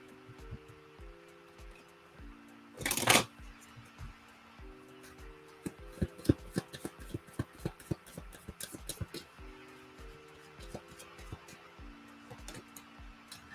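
Moonology Oracle cards are shuffled by hand in a run of quick papery clicks and flicks over soft, steady background music.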